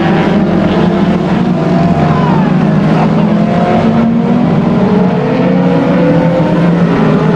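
Race cars lap Aldershot Raceway with engines howling loudly and pitch sweeping as the leaders come past, under steady commentary.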